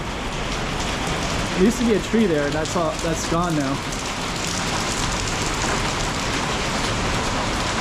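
Steady rain falls on a Macau street, Rua da Barca da Lenha, a dense hiss of drops on surfaces throughout, with someone speaking briefly over it near the start.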